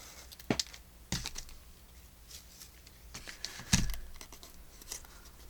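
Scissors cut paper for a mixed media collage in a few sharp, separate snips with short pauses between, close and fairly loud against a quiet room.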